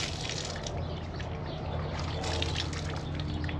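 Ducklings swish their food around in water, a continuous close splashing and dribbling with soft liquid gurgles.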